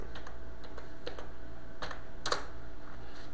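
Keystrokes on a computer keyboard while naming a prefab in Unity, a sparse, uneven run of light clicks close by over a steady background hiss, with no talk.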